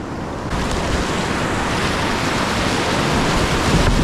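Rushing river rapid water around a kayak, a loud continuous broadband wash of turbulent water mixed with wind buffeting, close and steady for the whole few seconds, no voices.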